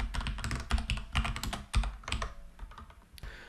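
A computer keyboard being typed on while writing a few lines of PHP code in a text editor: rapid, uneven clusters of sharp key clicks up close, with brief pauses between bursts and no voices.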